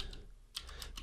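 Short burst of computer keyboard typing as a command is entered, several crisp key clicks clustered in the second half, close and fairly quiet with no voices.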